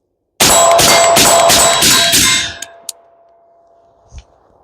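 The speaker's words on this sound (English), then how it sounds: "I'm going to do a bill drill right now. 30 yards, C-zone steel." A rifle with a 4x magnified optic fires a rapid bill drill at C-zone steel 30 yards away: six fast, loud shots ringing metallic clangs in an even rhythm, then a fading ring and a few faint clicks.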